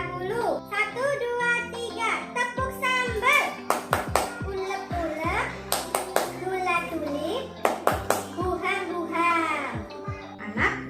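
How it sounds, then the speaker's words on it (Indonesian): Primary school class doing the rhythmic Indonesian clapping game 'tepuk sambal', sharp patterned hand claps in quick bursts mixed with children's chanting and a teacher's voice leading along. "kita tepuk sambal terlebih dahulu. 1, 2, 3, tepuk sambal."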